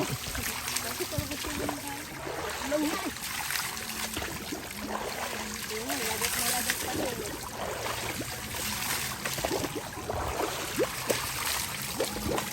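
Splashing, trickling water poured in uneven bursts, with voices talking and laughing throughout.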